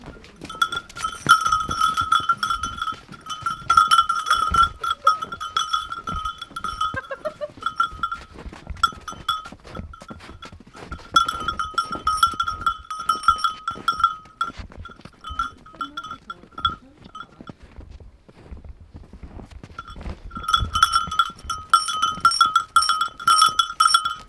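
Goats sheltering inside a byre during heavy snow, with repeated bleats and cowbell-like clanks, shuffling and knocking in close, busy bursts separated by a short quieter gap.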